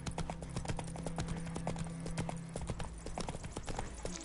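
Roach, the horse in The Witcher 3, trots with a crisp, close, rhythmic clip-clop of hooves. The beat is steady across a few seconds over a low ambient hum, and no one speaks.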